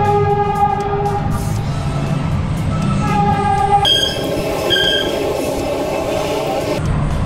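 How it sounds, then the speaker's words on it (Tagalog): A train rolls past at a nearby crossing, heard from a bicycle ride, with a steady rumble of wheels on rails and a sustained horn blast whose tones shift and brighten partway through before fading. "Yan na yung choo-choo train."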